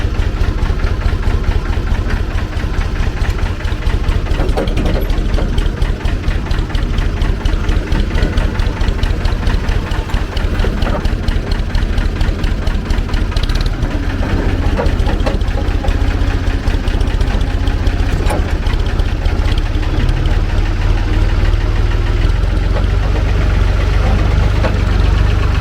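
Sanderson off-road forklift engine idling outdoors, a loud, steady low diesel rumble with a constant throb that holds unchanged throughout.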